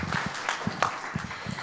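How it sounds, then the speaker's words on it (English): Audience at a financial management conference panel claps, a fairly faint, scattered patter of hands with a few sharper individual claps standing out. "can I ask you guys to clap harder and louder"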